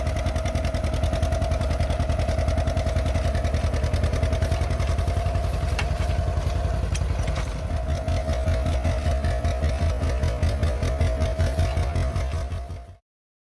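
An Oliver tractor engine runs steadily with a low, even drone and faint mechanical clatter while a rooster-comb plow is raised, continuous and fairly loud for most of the stretch before cutting off abruptly.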